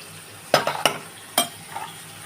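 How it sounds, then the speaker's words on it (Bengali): Onion and bay leaf frying in oil in a pan for a cauliflower and prawn curry, with a few sharp stirring clatters over a soft, steady sizzle, close and fairly quiet. "পেঁয়াজ দিয়ে দিচ্ছি, তেজপাতাটা হয়ে গেছে ভাজা, একটু পেঁয়াজটা হোক"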